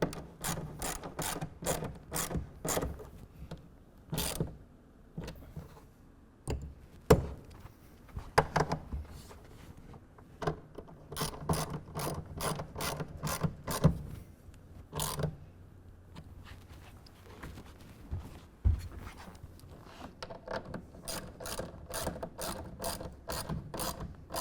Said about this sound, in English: tighten everything down to 10 foot-pounds using a 1/2 inch wrench or ratchet